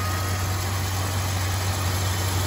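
A 2004 Jeep Grand Cherokee's 4.7-liter PowerTech V8 idles steadily with the hood open, a smooth, even low hum heard up close with no other sounds.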